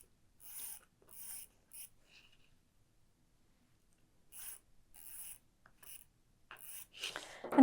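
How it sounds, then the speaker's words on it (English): Marking pen drawing quilting lines on a fabric pocket, heard as a series of short, close scratchy strokes separated by pauses, ending in a louder rustle. "So I'm drawing in my quilting lines."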